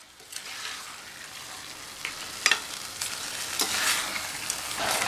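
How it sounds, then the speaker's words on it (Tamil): Masala for mutton kuzhambu sautés in a pan, a continuous sizzle broken by bursts of scraping and stirring strokes, close and fairly loud with no voices. "நல்லா இதை ஒரு 5 நிமிஷம் வதக்கிக்கலாம்."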